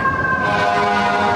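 Fire truck sirens wail loud and close on a cold New York City street, a dense steady tone with layered pitches suggesting more than one truck, over constant traffic rumble.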